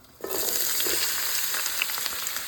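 Onions hitting a hot pan, a sudden burst of sizzling that settles into a steady close frying hiss with light stirring.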